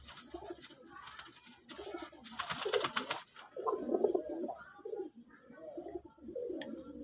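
Deshi Raj Golla pigeons coo in a steady run of soft, throaty calls heard up close, with a burst of brighter higher-pitched rustling or chirping partway through.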